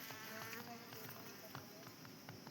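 Honeybees buzz around the entrance of a wooden hive box in a rural Himalayan village, a continuous close hum with passing individual buzzes, under faint background noise.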